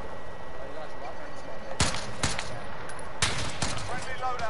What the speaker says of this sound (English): I'm like shooting this guy in the head.